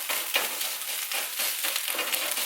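Sausage frying in a pan for gravy, a close, bright crackling sizzle with rhythmic stirring pulses about every quarter second, and no voices.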